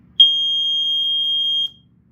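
A Montgomery Wards 84-7 piezo smoke alarm sounds from its test button as a single piercing, steady high-pitched tone, loud and close, lasting about a second and a half before cutting off.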